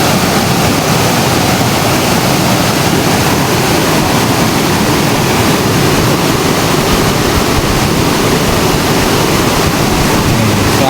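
Fast-rushing river current at a fishing spot, a loud continuous broadband roar of churning water with no pause, close by and steady throughout.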